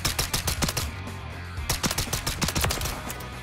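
Rapid automatic gunfire in Call of Duty: Modern Warfare 3 rattles in close, dense bursts with short gaps, loud and punchy with no talk over it.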